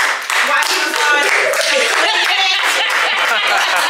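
Family members clap for Uncle Art at home, close, loud hand claps filling the moment with some cheering voices mixed in.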